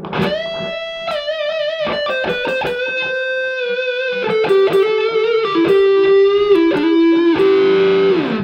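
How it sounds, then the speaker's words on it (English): Distorted electric guitar playing chords and sustained notes through an overdriven amp, loud and close, with ringing tones and no voices. "I'm using the amp distortion"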